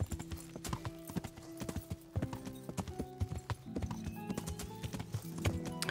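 Horse hooves clip-clop at a steady walking pace in the medieval game Kingdom Come: Deliverance, quiet and close with uneven hoof strikes.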